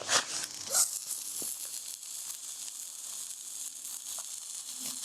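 Burger patties sizzle in a pan on an outdoor fire in the snowy deep woods, a steady close crackling hiss with a few sharper pops early on and no talking.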